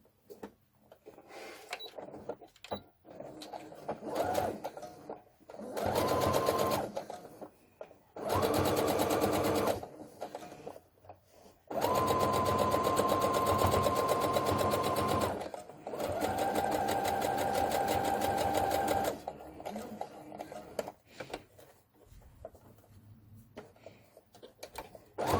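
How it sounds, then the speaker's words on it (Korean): A sewing machine runs in several long bursts with short pauses between them as it stitches around the hem of a doll's cardigan. The whirring is close and steady and no one speaks over it. "재봉틀로 한 번 더 박음질을 해줄게요."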